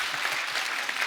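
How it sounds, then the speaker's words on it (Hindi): Studio audience on a Hindi comedy talk show applauding for guest Sanjay Dutt, a dense, steady wash of clapping with a few cheers, continuous and fairly loud throughout. "यार एक बार जोरदार तालियां संजू पाजी के लिए।"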